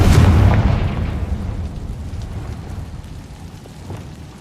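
A Confringo fire spell explodes in the Hogwarts Legacy video game, a loud close boom with a sharp burst up front that rumbles and crackles away over several seconds, with no talk over it.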